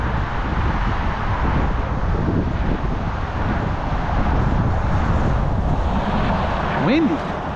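Steady wind roars and buffets the microphone throughout, a continuous broadband rush with a brief tonal whine near the end.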